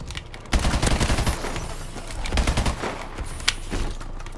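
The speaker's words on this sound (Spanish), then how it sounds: "Me han disparado de no sé dónde." Gunfire aimed at the player rattles through a shooter video game, rapid bursts of shots crackling close and loud, then tapering into scattered, fainter reports with one sharp crack near the end.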